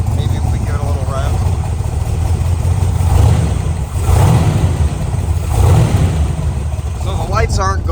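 A 1966 Chevrolet Corvette with a 427 V8 revving nearby, a deep rumbling idle swelling into several throttle blips, with someone talking over it.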